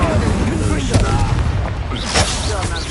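Incendio fire spell cast during combat in the Hogwarts Legacy video game, a burst of booming, crackling magical blasts over a dense, loud mix of game effects with voices talking throughout.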